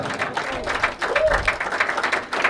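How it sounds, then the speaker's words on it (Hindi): Audience applause at a live stage show for new artists: scattered, uneven clapping from a modest crowd, pulsing irregularly at moderate loudness, with some voice mixed in. "तो जोरदार तालियां।"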